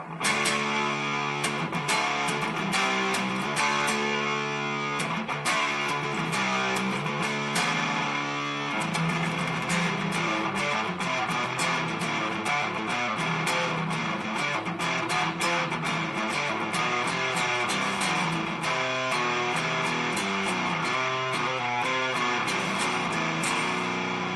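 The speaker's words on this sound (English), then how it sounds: "you can hear what it's going to sound like with a very high level of distortion" An electric guitar plays through a T-Rex Magnus multi-effects pedal with distortion at maximum, a thick saturated wall of chords and sustained notes, loud and continuous throughout with no talking.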